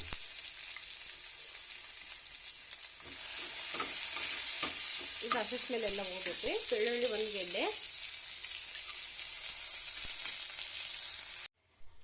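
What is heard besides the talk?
onion and garlic frying in oil for tempering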